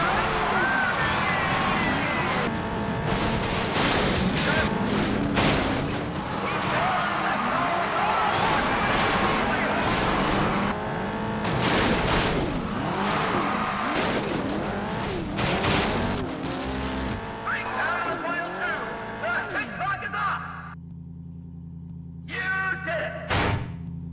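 Cars in a demolition derby in Test Drive Eve of Destruction, an Xbox racing game, skid with long squealing tires, roaring engines and repeated crashes. The loud, continuous mix is joined by a narrating voice.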